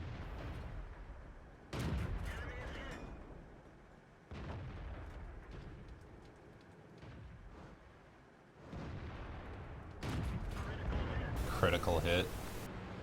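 Tank cannon shots in World of Tanks ring out as several heavy booms spaced seconds apart, each with a rumbling decay, loud and close amid battle noise while someone talks over them.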